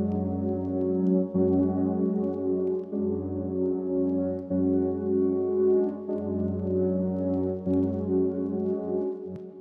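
Ambient melody from a hard ambient beat built in FL Studio, sustained warm tones layered over a low bass drone, gently swelling and fading in repeated phrases, steady and moderately loud with no voices.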